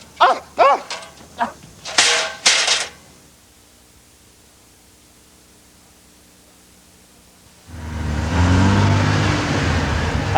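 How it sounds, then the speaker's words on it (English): A brand new Toyota Supra sports car engine roars loud and steady through the final few seconds, after a handful of sharp dog-like barks and a quiet pause. "Hey, Vern, look what my brother-in-law just got down at Tyson's Toyota, Vern. A brand new Toyota Supra. A dream machine."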